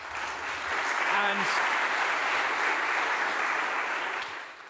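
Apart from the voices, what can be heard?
audience applause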